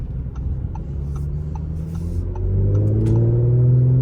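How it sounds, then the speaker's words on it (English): Engine of a 2019 Audi S5 revving under throttle from inside the car, a low rumbling note that climbs in pitch and grows louder over the last couple of seconds, with no talking. "You just hear the car come to life, even under the smallest of throttle presses."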